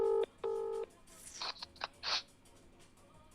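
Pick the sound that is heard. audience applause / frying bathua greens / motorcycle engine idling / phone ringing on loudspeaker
phone ringing on loudspeaker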